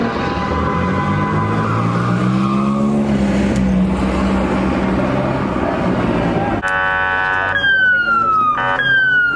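Police car sirens arriving at a nighttime car meet, wailing and sweeping in pitch, close and loud over engine rumble, then switching to rapid yelp tones as more units pull up; voices are faintly present.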